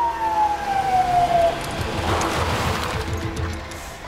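A police car siren wails in a dramatized street scene, its tone sliding downward over the first second and a half before giving way to a steady rumble of road traffic and engines.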